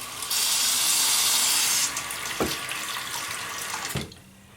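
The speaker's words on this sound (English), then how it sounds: "So we're gonna put some real hot water in there" Hot water runs from a tap onto a dry shaving soap puck in a bowl, a loud steady gush that eases and then stops with a couple of knocks and clunks.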